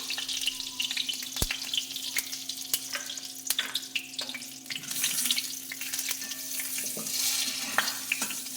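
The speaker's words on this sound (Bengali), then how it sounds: "তেজপাতা, দুটো তেজপাতা, দুটো শুকনো লঙ্কা" Bay leaves and dried red chillies sizzle in hot oil in a pan, a steady close crackle with sharp pops and occasional stirring scrapes throughout, no voices.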